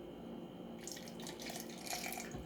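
Broth is poured from a pan into a soup pot of asparagus soup with rosemary, a soft liquid splash and gurgle that starts partway in and runs on quietly with a faint hum beneath.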